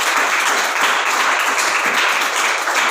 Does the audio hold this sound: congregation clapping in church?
yes